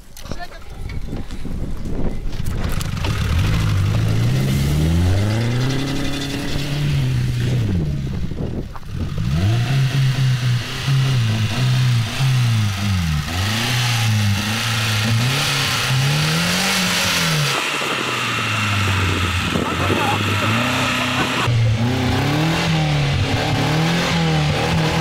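An old car's engine cranks and fires, then revs up and down repeatedly, loud and close, with people talking over it.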